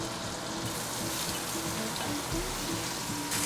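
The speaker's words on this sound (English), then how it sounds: "Just gently saute in the butter." Oyster mushrooms sauté gently in butter in a pan, giving a steady, soft sizzle and crackle that stays close and continuous, with no talking.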